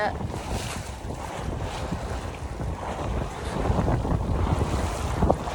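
Steady wind of about 10 knots rushes past a sailboat heading west-southwest on Lake Michigan, loud buffeting noise mixed with water wash and gusts that build toward the end.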